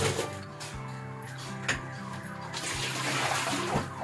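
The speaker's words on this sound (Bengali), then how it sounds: "চলো গরম জলটা বের করে নিই গিজারে গরম জল হয়ে গেছে" Hot water runs from a geyser into a bathroom bucket for a bath, a continuous gushing stream with a few clunks and knocks along the way.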